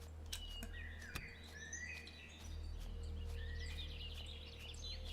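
Ambient birdsong from the Empyrion game environment, scattered chirps and short trilling calls over a low steady background hum, fairly faint.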